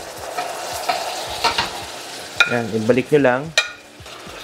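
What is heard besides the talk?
stirring beef with onion and garlic in a pan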